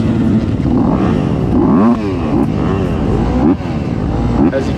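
Class 4 motocross dirt bikes leave the start of a dusty MHSC series race, a loud, continuous roar of several engines revving and rising in pitch close by.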